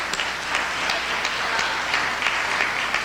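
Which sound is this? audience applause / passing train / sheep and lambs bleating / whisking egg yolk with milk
audience applause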